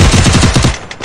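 Rapid automatic gunfire in the Free Fire battle royale game, a loud close burst of about eight quick shots over under a second, then fading, with no voices over it.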